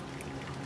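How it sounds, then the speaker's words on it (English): An egg poured into a frying pan of hot vegetable oil, giving a close, dense, steady sizzle with no talk over it. "So I'm just going to gently pour my egg into my frying pan like that."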